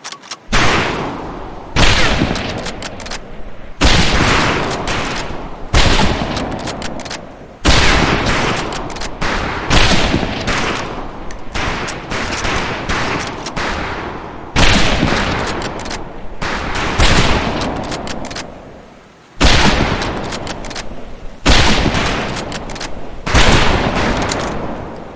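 Rifle fire on a boot camp shooting range in Medal of Honor Pacific Assault, loud repeated shots ringing out in steady volleys with echoing tails, nearly continuous for the whole stretch.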